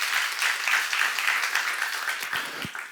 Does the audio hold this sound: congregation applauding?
yes